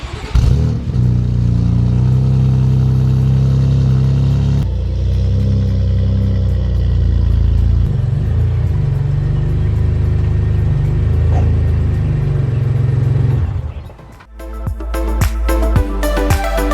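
A BMW F80 M3 engine running as the car is moved outside, a deep, loud, steady rumble with shifts in tone. It cuts off near the end, leaving lighter clatter and ambient noise.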